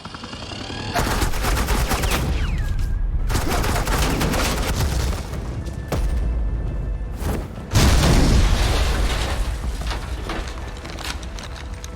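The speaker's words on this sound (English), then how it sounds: "suppressing fire." Suppressing fire in Batman: The Enemy Within comes as sustained, loud automatic gunfire, rapid bursts rattling almost continuously over about ten seconds, with a brief pause and a heavier boom near the end.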